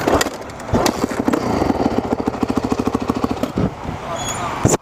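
A new four-stroke dirt bike with earlier starting trouble sputters as someone tries to start it, giving uneven popping bursts that settle into a rapid, loud chugging rhythm close by, with voices talking over it.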